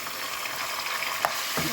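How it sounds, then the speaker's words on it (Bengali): Whole spices such as bay leaf, cardamom and cloves sizzle steadily in hot oil in a pan, a dense continuous frying hiss with a brief stir or clink near the end and no talking. "মশলাটা একটু ভাজা ভাজা করবো যাতে কাঁচা গন্ধ চলে যায়"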